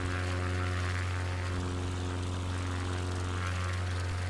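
Bush plane droning in Microsoft Flight Simulator 2024 over Alaska, a steady low propeller and engine hum, constant and moderately loud.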